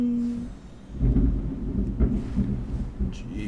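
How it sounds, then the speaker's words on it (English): Deep thunder rumbling in World of Warcraft: The War Within, a loud low roll building and swelling in waves with rain-like hiss over it, no voices. "Thunder's sounding crazy right now."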